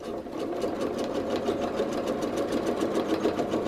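Home sewing machine running steadily for free motion quilting, a fast, even mechanical whirr with a continuous needle rhythm, close and alone.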